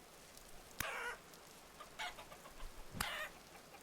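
Chickens in the Vintage Story video game let out three short, distinct clucking calls spaced about a second apart over a quiet background.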